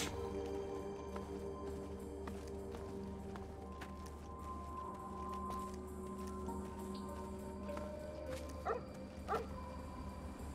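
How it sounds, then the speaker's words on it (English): Dog barking in the video game Fallout 3: several short yips and barks that grow clearer toward the end, heard faintly over a humming game background, no talking. "Are you barking at anything particular"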